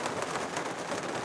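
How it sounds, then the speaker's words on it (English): Rain falling steadily outdoors during an orchid-growing chat, a continuous soft hiss of drops on surfaces with no voices, filling the whole short stretch at an even level. "excuse the rain"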